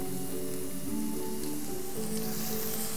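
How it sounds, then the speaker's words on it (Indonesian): Onion and garlic sautéing in hot oil in a pan for a tofu and vegetable stir-fry, a steady close sizzle and crackle throughout with no talking. "Pertama-tama kita tumis dulu bawang bombay, bawang putih"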